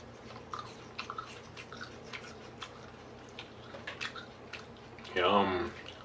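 A baby possum chews an apple close up, making soft wet smacking and crunching bites in an irregular rhythm, followed by a short burst of a voice.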